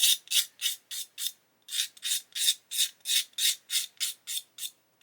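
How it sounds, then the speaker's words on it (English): A knife blade scrapes back and forth along the mould seam on plastic parts for a 1/8 scale Pocher Lamborghini Aventador model, making about fifteen even, close, bright rasping strokes in a steady rhythm with no talk. "There is a sharp mould seam around the edge of the parts, and the way to get rid of it is to scrape it with a knife"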